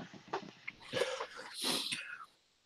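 A sneeze from a participant on a live reseller call, a short burst of breathy noise with muffled voices around it.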